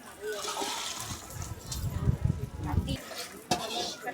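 Water being poured into a fish curry in a pan and stirred, with light splashing, sloshing and scraping while someone talks throughout.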